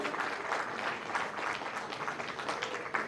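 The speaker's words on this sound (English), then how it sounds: "Round of applause for all the UKG kids over here." An audience at a kindergarten graduation convocation claps steadily, a dense continuous applause heard from a little distance without talk over it.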